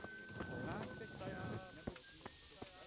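Horse hooves clip-clop on the ground in the Kingdom Come Deliverance video game, a handful of separate, fairly distinct strikes following a stretch of louder game sound.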